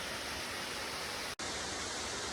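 Steady, full-bodied roar of a waterfall on a mountain hike up to Switchback Pass along the Continental Divide Trail, a constant broadband rush with no voices, briefly cut by a short dropout partway through.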